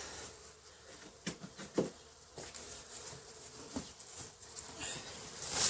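Honeybees being transferred from a moisture-damaged, mouldy hive into a new hive buzz faintly and steadily, with a few soft thumps and taps scattered throughout.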